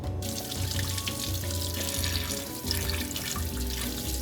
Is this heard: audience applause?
no